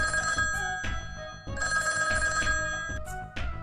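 A telephone bell rings loudly in repeated bursts, with short gaps between them and no talking.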